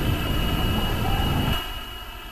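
Boeing 767-300 jet engines roar loudly in flight in a flight simulator game, a steady, dense drone that drops noticeably in level partway through.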